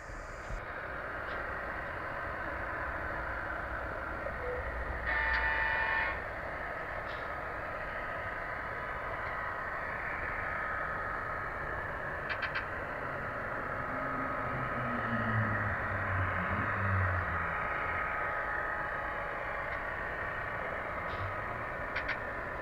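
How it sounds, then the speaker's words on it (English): A model train runs around a branch-line reversing loop, a steady low rumble and whirr of the motor and wheels on track, with a few brief clicks and a deeper grinding hum partway through. "The train now is entering a transition from a 750mm radius to a 1m radius"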